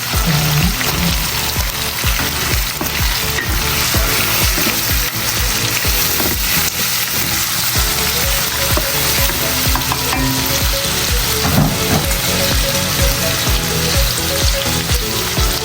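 Chicken pieces frying for homemade goto, a steady loud sizzle with stirring scrapes running throughout, no voices.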